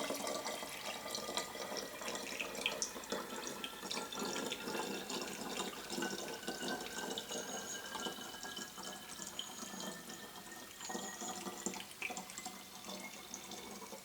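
Water pours steadily through a small funnel into a Parkside pneumatic pressure sprayer, a continuous close trickling and splashing that runs alone for the full stretch without pause.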